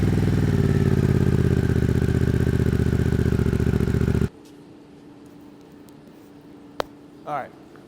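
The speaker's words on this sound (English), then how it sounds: "At the end, we'll see what the sound difference is with a couple of little throttle blips" A 2024 Harley-Davidson Pan America CVO engine runs loud and steady with a constant rumble. The engine then cuts off abruptly, leaving a quiet stretch with a brief click and a short faint sound near the end.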